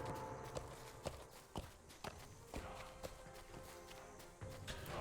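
Horse hooves clip-clop in a video game, a steady run of sharp, fairly close hoofbeats over a faint ambient bed, with no talking.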